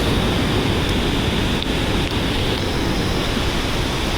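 Strong waves of rushing water at a swimming and sliding spot in Pangasinan, Philippines, a loud, constant roar that fills the whole span with no talking.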